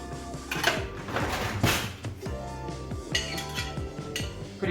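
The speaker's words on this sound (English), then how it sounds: "We'll stir that together." Chopped garlic and vegetables being stirred together in a bowl for pizza toppings, giving a steady run of close clinks, scrapes and knocks of a utensil against the bowl.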